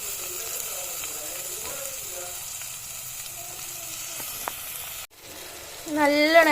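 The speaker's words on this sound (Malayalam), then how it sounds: "നമുക്ക് ഇച്ചിരി എണ്ണ ഒഴിച്ചു കൊടുക്കാം വെളിച്ചെണ്ണ വെളിച്ചെണ്ണ നല്ല ഇനി എടുത്തു വെച്ചേക്കുന്നത് ചെറിയുള്ളി ഇട്ട് കൊടുക്കാം" Shallots sizzle in hot coconut oil in a pan with a steady close hiss, under intermittent speech, ending with a louder burst of sound.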